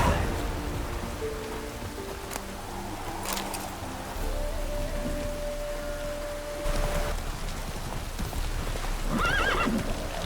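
Roach, Geralt's horse in The Witcher 3, whinnies and clip-clops at close range as rain patters steadily, with the hoofbeats and neighs standing out over the wet backdrop.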